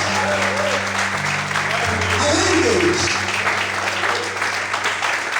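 A church congregation applauds and cheers in praise of the Lord during a sermon, broad steady clapping filling the room with voices and a sustained musical tone underneath.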